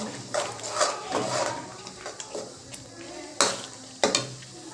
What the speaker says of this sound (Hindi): मछली के मसाला भुंजाया थे अभी संगवारी